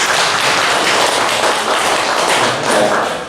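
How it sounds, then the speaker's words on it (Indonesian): An audience applauding a speaker at a teachers' school-culture presentation, a dense, continuous burst of clapping that stays loud for a few seconds and then begins to fade. "sebelumnya tepuk tangan untuk Pak Saras."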